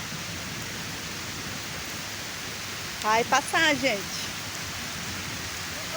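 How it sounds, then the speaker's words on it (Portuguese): Rain falls steadily on the ground around an outdoor campfire, a soft even hiss throughout, with a person speaking briefly over it midway. "Chuva expulsou a gente vai ter que entrar agora"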